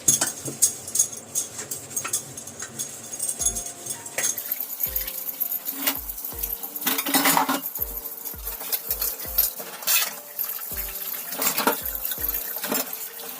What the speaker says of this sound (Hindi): गर्मियों में तो बर्तन बहुत रगड़ रगड़ के धोने पड़ते हैं